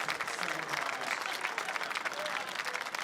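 A large crowd applauding beneath the podium at the Bathurst 12 Hour endurance race, with steady dense clapping throughout and some voices mixed in.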